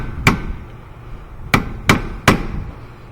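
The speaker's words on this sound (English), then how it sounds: "This pry bar works because it's just striking pry bars." A hammer strikes a pry bar during rear wheel bearing replacement on a 2015 Subaru Forester AWD: four sharp metallic blows, one, then a pause, then three in quicker succession, close and loud.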